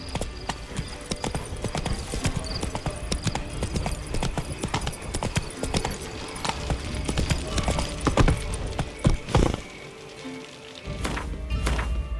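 Horse hooves gallop steadily in the Witcher 3 video game, a rapid, continuous clip-clop of hoofbeats close by, with brief thuds and a short lull near the end before the gallop resumes.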